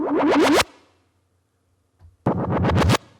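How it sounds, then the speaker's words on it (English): Two bursts of synthetic whooshing, each a rapid series of sweeping, rising tones, loud and close, separated by a short silence. "all of these could potentially be used as possible risers or whooshes"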